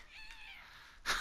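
A cat in the video game South Park: The Fractured But Whole gives a single drawn-out meow, followed by a short louder burst at the end, with no talk.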